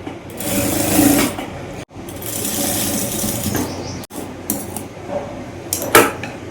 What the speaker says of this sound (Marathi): त्यानंतर आपण अशी किनारी टीप मारून घ्यायची.